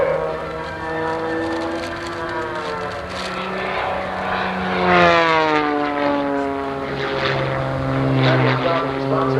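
A propeller aerobatic airplane performs at the 1989 Oshkosh airshow. Its engine drone rises and falls in pitch as it dives and builds speed, carrying strong harmonics under continuous announcer commentary over loudspeakers.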